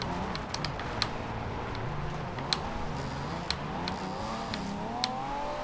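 A Pagani Huayra engine hums steadily as the car drives on gravel in Forza Horizon 2, with continuous tire crunch and occasional sharp ticks over a close, even drone.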